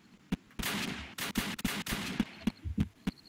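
Gunfire in the Roblox game Apocalypse Rising: a rapid, irregular string of loud, sharp shots, about a dozen, some closely bunched and others spaced apart, with no talking.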